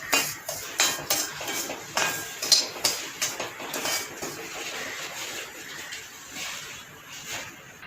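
Semolina being dry-roasted in a pan for ukkarai, a utensil scraping and clinking against the metal in steady repeated strokes, close and moderately loud, with no talking.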